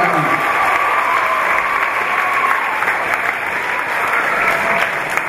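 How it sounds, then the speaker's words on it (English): Sustained audience applause at the close of an Irish jigs and reels event, a steady, full wash of many hands clapping for several seconds with a faint voice briefly near the start. "Big round of applause for Manny"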